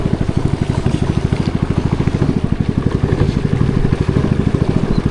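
A boat engine on the Amazon in Brazil chugs steadily with a fast, regular pulsing throb, close and loud throughout, with no talking.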